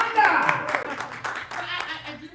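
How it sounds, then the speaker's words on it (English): A small studio audience claps for a guest on a live talk show, a loose patter of hands over about two seconds while a host keeps speaking over it. "Clap it up for Yolanda!"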